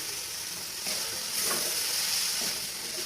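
Soybean chunks going into spiced masala frying in a little oil in a pan, a steady soft sizzle and hiss with a faint stirring scrape, fairly quiet and continuous.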